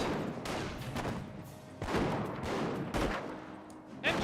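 Machine-gun and rifle fire from an MG42 in a Company of Heroes battle, dense overlapping bursts and cracks rolling continuously for several seconds, fairly loud, with heavier impacts near the middle and end.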